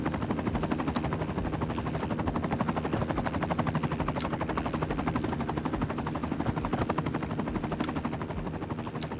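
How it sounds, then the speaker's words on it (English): A helicopter in the city-building game Cities: Skylines II gives a loud, steady rotor chop that beats rapidly and evenly for the whole stretch, with no voices over it. "Can you guys hear there's a helicopter?"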